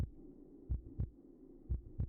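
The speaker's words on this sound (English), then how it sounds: "I don't know if you can hear the heartbeat" Deep, muffled heartbeat thuds from a vampire video game repeat in a steady double-beat rhythm, two clear pairs over a quiet background hum.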